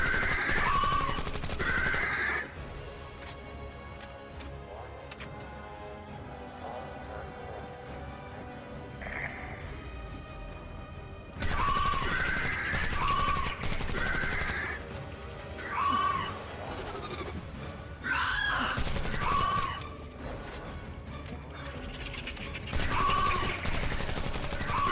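Bursts of rapid video game gunfire ring out in several loud volleys separated by quieter gaps, with little talk.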